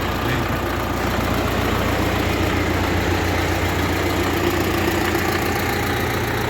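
A YuMZ 4x4 tractor engine idles steadily with a constant low rumble and rattle, loud and close, no talking.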